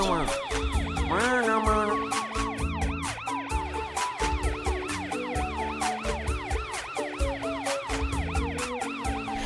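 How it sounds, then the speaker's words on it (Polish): A cartoon police car's wailing siren cycles up and down steadily and loudly over a musical backing. "tam jest Matt radiowóz policyjny"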